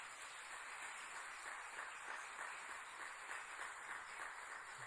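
Soft, continuous applause rises from a church congregation during a worship celebration, a faint, even rush of clapping heard from a distance without speech.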